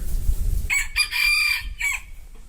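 A native rooster crows close by in a short, bright call broken into a few bursts over low rumbling background noise.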